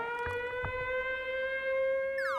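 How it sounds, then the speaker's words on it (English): A wailing siren sound effect played back over a Zoom call, a steady multi-toned drone sliding upward near the end, with a couple of soft knocks early on and no talk over it. "That's a siren."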